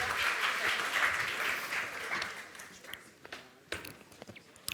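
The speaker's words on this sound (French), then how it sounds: "Vous pouvez l'applaudir." An audience at a startup pitch event applauds as a presenter steps onto the stage, a dense round of clapping that thins out into scattered claps and footsteps.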